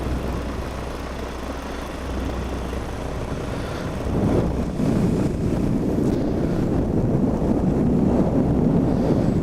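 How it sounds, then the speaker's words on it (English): Steady, loud wind buffeting the microphone during a cross-country paramotor flight at about 1,200 feet, a continuous broadband roar that grows stronger midway, with no talking. "I definitely feel that wind. It's pushing me sideways."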